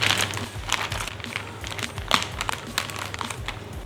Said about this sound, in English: So right now, I'm just going to cut it with a cutter once again.